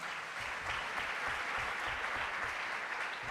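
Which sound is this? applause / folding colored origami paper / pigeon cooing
applause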